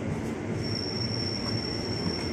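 A KRL commuter train leaving the Depok depot squeals steadily from its wheels on the rails, a sustained high metallic whine over a constant rumble, loud and close.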